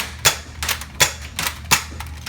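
A Zuru X-Shot Rapid Fire dart blaster fires a quick series of sharp mechanical clacks, about five shots in a loose rhythm, close and alone with no talking.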